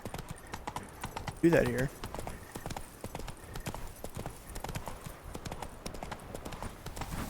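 Hoofbeats of Roach, Geralt's horse in The Witcher 3: Blood and Wine, clip-clopping in a steady gallop through the whole stretch, with a brief whinny-like burst near the start and someone talking over it.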